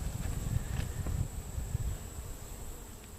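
Honeybees hum steadily around an open hive, a constant droning buzz with faint rustling and handling noises underneath, at a moderate, close distance.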